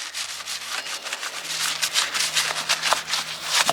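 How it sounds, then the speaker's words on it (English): Repeated scrubbing on greasy aluminum coated with Super Clean degreaser, a steady close-up rubbing and swishing with irregular strokes, loud and continuous with no talking. "I just mentally started scrubbing it"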